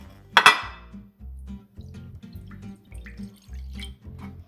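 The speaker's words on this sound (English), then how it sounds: "now pour the coffee in here" A sharp clink of a cup against a dish, then coffee pouring and trickling softly in low gurgling pulses while making pumpkin tiramisu.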